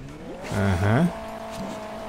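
Sports car engine from the Hill Climb Racing 2 video game revs in a rising and falling harmonic whine, peaking loudly for about half a second before settling into a steadier, quieter drone.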